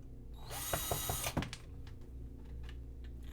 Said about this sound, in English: Put my drill with the 4 corners